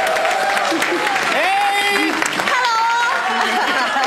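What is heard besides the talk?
studio audience applause welcoming someone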